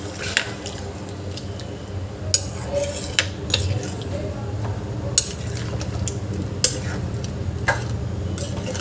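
A spoon scrapes and knocks against a pot as rice and water for masale bhat are stirred, giving scattered sharp clinks over a soft swishing, close by and unaccompanied by speech.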